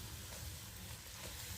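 Luchi, puffed flatbread, fries in hot oil for a home dinner, a soft steady sizzle and crackle heard up close and alone.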